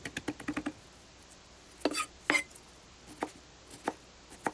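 A knife taps rapidly on a cutting board, mincing squeezed shepherd's purse greens in quick bursts of chopping, with short pauses between strokes, close and fairly quiet.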